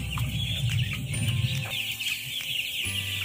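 Broiler chickens cluck and chatter in a poultry pen with partitioned sections, a dense flock of overlapping calls over a steady mechanical hum, with no voices.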